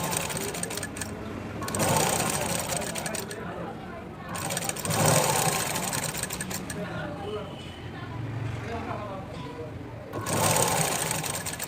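Sewing machine stitching fabric from the middle of a seam, heard as several bursts of stitching that rise and fall close by, with a voice talking throughout.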